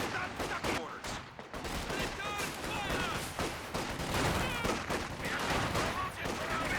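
Artillery barrages and gunfire in Company of Heroes 2, a dense, continuous battle din of overlapping bursts and blasts at a steady loudness, with commentators talking over it.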